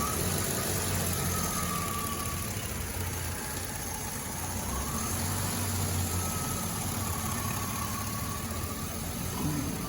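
A Chevy V8 engine running on hydrogen fuel idles steadily nearby, giving a continuous loud rumble with a faint whine over it.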